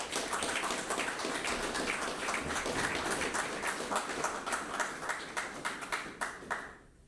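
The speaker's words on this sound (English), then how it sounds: "Please give them a round of applause." An audience applauds at a commando course closing ceremony in Barbados, a rapid, even patter of many hands that sounds almost like rain, then thins into separate claps before stopping.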